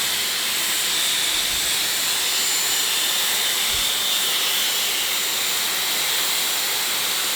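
Dyson Airwrap hair styler blowing air, a loud, steady, close whooshing hiss that holds constant from start to finish with no pauses.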